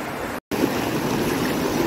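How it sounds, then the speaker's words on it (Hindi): Water from a stream near Purkul village rushes in a steady, loud, close wash with no voices, cut by one brief dropout. "वो देखो फ्रेंड्स आगे पूरा पानी बहता हुआ इतना ज़बरदस्त लग रहा है ना"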